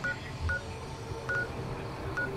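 Telephone keypad dialing tones, a few short evenly spaced beeps from a phone being dialed, heard clearly against a low background hum.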